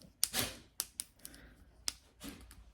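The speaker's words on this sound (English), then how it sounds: "So you can click the buttons." Sharp plastic clicks from buttons pressed on a Game Boy-style pivot fidget toy, a handful of close, isolated taps spaced irregularly with quiet gaps between them.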